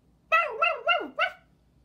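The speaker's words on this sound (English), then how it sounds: "look who came to visit us today. It's a dog." A dog barks four times in quick succession in a barnyard setting, close and clear over a quiet background, with no talking.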